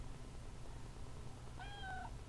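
A single short cat meow rises clearly near the end over a quiet, low background hum.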